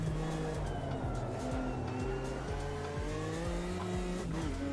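Race car engine from the Automobilista 2 racing video game runs loud and steady throughout, with shifting harmonic drone, gear-change steps and tire squeal, no voices.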